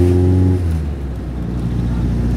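Volkswagen Gol engine pulling uphill in fourth gear after a carburetor cleaning, a loud steady drone heard from inside the car, with a smoother rising tone after the first half second.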